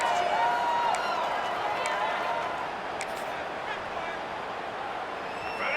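Football stadium crowd roaring to urge on the home defense on third down, a dense continuous wash of distant voices and shouts that gradually eases, with a commentator talking over it and a few whistles.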